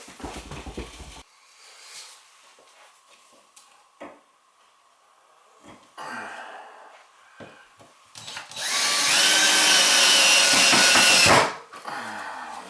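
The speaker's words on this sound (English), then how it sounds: "Just get a couple of screws loose now." Power drill loosening screws during a bathroom remodel, with short whirring bursts and then a long, loud, steady high whine before it cuts off, and a dog whimpering faintly nearby.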